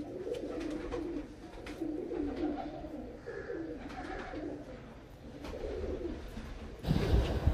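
Teddy pigeons, a male and female pair released together, give soft repeated low coos close by, with light rustling and a sharper burst of movement near the end.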